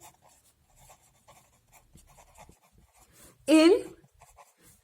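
Marker or chalk strokes during a Class 9 maths lesson on converting temperatures, faint scratchy writing scattered through the clip while someone speaks briefly.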